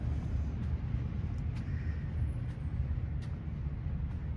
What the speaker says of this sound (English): air conditioner is a lot louder than the other side of the house,